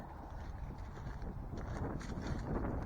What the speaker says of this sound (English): But kind of windy.